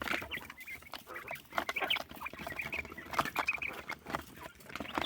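Texas broiler quail in a backyard pen chirping and calling in repeated short bursts, with scratchy rustling and pattering underneath, fairly close and moderately loud throughout.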